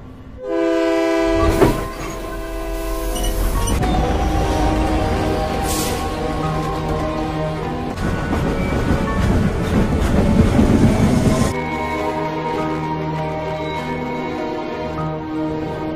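A train horn blares, then a train rumbles along the rails with rhythmic clickety-clack, loud and close, with another horn tone partway through.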